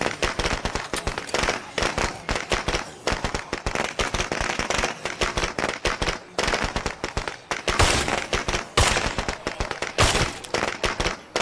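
Rapid crackling bursts of explosions and gunfire-like pops from a detonated explosive in the video game State of Decay 2, loud and continuous for several seconds, dense and sharp with no voices over it.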